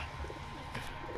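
Pigeons (merpati) kept at a bird kiosk in Brebes coo softly, low and continuous over a busy outdoor background, with a brief brighter burst partway through.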